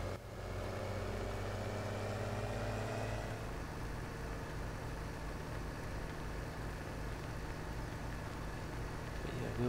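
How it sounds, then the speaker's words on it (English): Steady low engine drone of a New Holland T8 tractor in Farming Simulator 17, idling and running continuously at moderate loudness for the whole stretch, with no voices. "we'll get the tractor put away now. New Holland T8."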